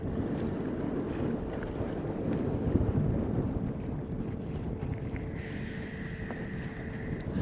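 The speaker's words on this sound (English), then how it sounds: "I mean, all this wind, right?" Steady wind rushing around a small fishing boat on open water, a constant loud buffeting roar across the whole stretch, with a faint tonal hum joining near the end and no talking.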